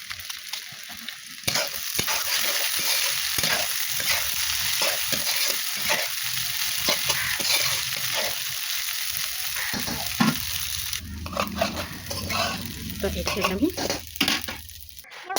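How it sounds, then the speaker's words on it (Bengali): Pasta tossed with pasta spice fries in a pan, a continuous sizzle with scraping stirs and occasional clinks of utensil on metal throughout. "তো পাস্তাটা দিয়ে দিলাম। তো এইগুলো প্রায় একটু ভাজা ভাজা করতে হবে"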